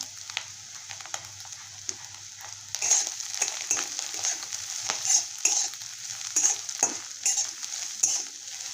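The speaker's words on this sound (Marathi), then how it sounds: "आपण ह्यामध्ये शेजवान फ्राईड राईसचा मसाला टाकून घेऊया" Leftover fried rice cooks with Schezwan fried rice masala, sizzling and being stirred in a pan, with scraping and clinking of the spoon that grow louder partway through, close-up and without speech.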